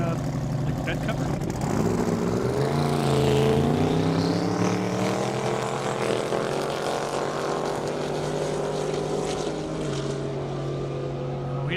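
A 1,000-horsepower Chevrolet S10 truck races down an airstrip, its engine roaring loud and continuous with rising and falling pitch as it passes, carried over steady outdoor noise.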